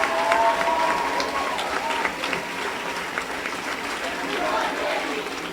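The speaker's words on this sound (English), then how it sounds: "let's give them a round of applause right now" A conference audience claps for delegation leaders, a sustained wash of applause from a large crowd, steady and moderately loud throughout with faint voices mixed in.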